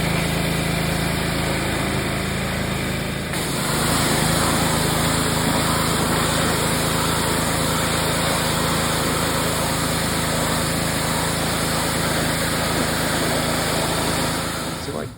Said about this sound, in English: I'm gonna get what I can off a high pressure washer before going into sandblast